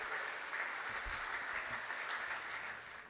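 An audience applauds steadily at a Bowls Australia awards event as the president walks to the stage, a dense wash of clapping from a moderate distance that fades slightly at the end.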